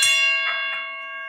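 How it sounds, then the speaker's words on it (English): A shout-out bell, called the Ali bell, struck once and left ringing, its bright metallic tone fading slowly and clear, with no one talking. "We're going to ring the Ali bell for Halim."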